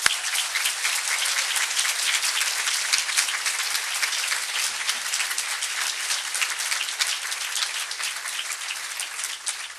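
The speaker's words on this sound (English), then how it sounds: "How about a nice round of applause there?" An audience at a Chicago City Club gathering applauds: dense, steady clapping from many hands fills the room for about ten seconds, holding an even level with no talk over it.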